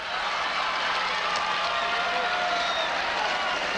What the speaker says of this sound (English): You can hear the Burns fans cheering now.